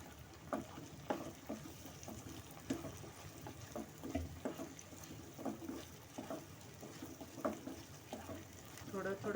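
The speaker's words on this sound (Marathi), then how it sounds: "हाय फ्लेमवर परतून घ्यायचं." Matar paneer gravy being sautéed over a high flame, with soft sizzling and intermittent stirring scrapes in an even rhythm, faint and close.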